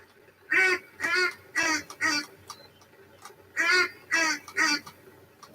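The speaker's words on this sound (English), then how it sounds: "I swear lots of ducks have gone past me on this fucking map." Ducks quacking in an Xbox One video game: a clear, fairly loud series of seven nasal quacks in two evenly spaced groups, with no talk.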